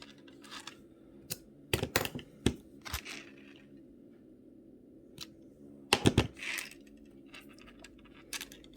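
Craft wire being snipped with cutters while making wire-wrapped earrings; sparse, sharp, close clicks and small metallic snaps separated by quiet pauses.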